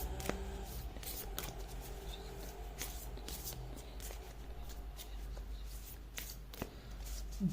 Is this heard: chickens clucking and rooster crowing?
no